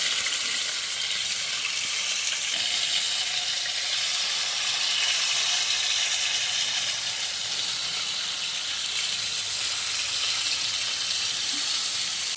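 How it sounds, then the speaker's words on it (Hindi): Chicken fries in a pan, giving a steady, loud sizzle and hiss that runs unbroken throughout with no talking. "और एक तरफ अब चिकन को भी अच्छे से फ्राई करके ले रहे हैं।"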